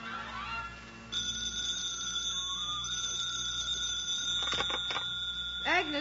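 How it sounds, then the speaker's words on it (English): An old-fashioned telephone bell rings as a sound effect in a 1951 radio comedy, a sustained metallic ring over a low studio hum, followed by a brief voice near the end. "The phone rings."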